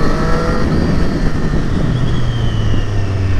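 A 2020 Triumph Street Triple RS motorcycle accelerating hard with quickshifter gear changes, its engine roar steady and loud from start to finish, its pitch climbing and shifting without any voice over it.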